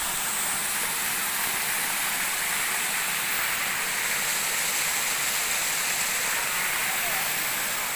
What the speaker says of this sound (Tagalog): Guys, oh, may mga mini falls.